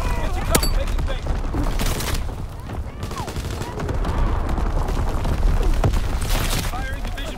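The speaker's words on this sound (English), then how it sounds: "Firing division artillery." Artillery explosions in Call of Duty WWII during a Domination match on Shipment 1944, repeated booming blasts amid rapid gunfire and chaotic battle noise, loud and dense throughout, with voices over the action.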